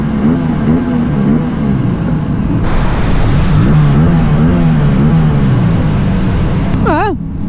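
Aprilia Tuono 457 motorcycle engine revving inside a tunnel, loud echoing rises and falls in pitch through several gear changes, ending with a sharp high whine.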